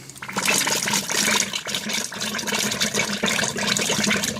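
Liquid rushes steadily through a freshly opened valve on a biodiesel unit, a continuous hissing gush with air working out of the lines, heard alone at close range.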